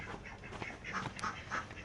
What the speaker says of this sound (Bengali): এখানে আছে কিছু চীন হাঁস আমরা একটু দেখাই দিই